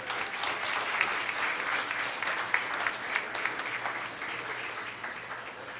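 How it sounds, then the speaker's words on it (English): Big round of applause from an audience at a campus evening event, a broad continuous wash of many hands clapping at moderate distance, with a few sharper claps standing out. "Please give them another big round of applause."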